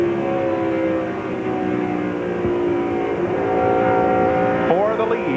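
NASCAR Cup cars racing at Las Vegas in 2001, a steady loud drone of many V8 engines roaring together around the track, with a commentator talking over it and a sharp downshift near the end.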